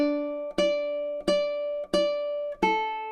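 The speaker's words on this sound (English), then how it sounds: "measures 5 and 6, sound something like this" Ukulele plucks measures 5 and 6 of the French folk song Au clair de la lune: five evenly spaced, ringing notes with clear sustain, played slowly and alone at moderate volume.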